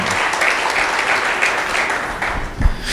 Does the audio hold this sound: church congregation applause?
yes